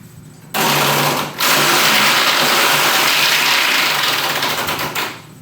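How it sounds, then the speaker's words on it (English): A game show prize wheel spins with a dense, continuous rattling whir that runs loud and steady for several seconds, pausing once briefly, with no talking over it. "Spin the reel."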